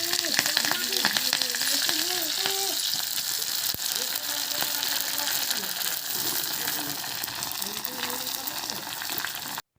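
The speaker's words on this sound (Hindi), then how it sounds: "तड़का लगाने के लिए हमने सरसों का तेल लिए हैं और उसमें हमने" Mustard seeds crackle and sizzle in hot mustard oil during tempering for a rice and chickpea breakfast dish, a continuous close-up frying hiss with a voice talking over it.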